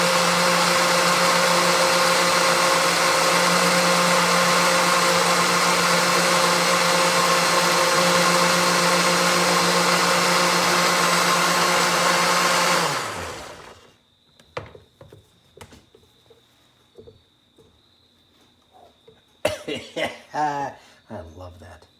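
Blender pureeing taco sauce ingredients with adobo, a loud steady roar and whine for about thirteen seconds that cuts off abruptly, followed by quiet kitchen clatter and brief talk.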